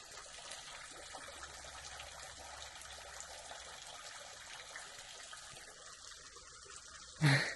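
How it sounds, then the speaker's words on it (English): A thin, steady trickle of water at the source of a dry-season waterfall in Udon Thani, Thailand, faint and continuous, with a brief louder knock near the end. "It's a trickle at best."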